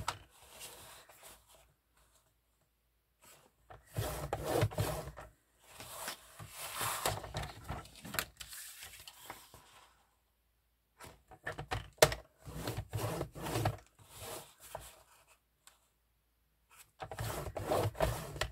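Paper being scored and creased with a folding tool while making a self-closing gift box, heard as close, quiet bursts of scraping and rubbing strokes separated by short pauses.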